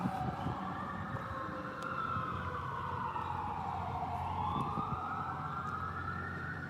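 A vehicle siren wails steadily outside near an alley, rising and falling in a long sweep, fairly distant and continuous over a low traffic rumble.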